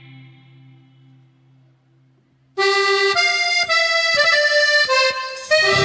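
Quiet, indistinct sound for a couple of seconds, then loud live cumbia chaqueña bursts in at an outdoor festival, bright sustained melody and steady percussive hits driving a danceable beat.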